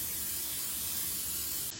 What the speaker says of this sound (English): we're gonna spray our cake pan with Pam